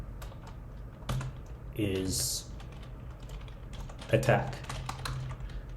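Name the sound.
typing on a computer keyboard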